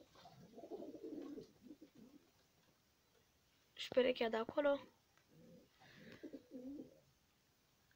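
Pigeons in a loft coo in low, throaty bursts, with pairs calling at the start and again near the end, while someone speaks briefly in between.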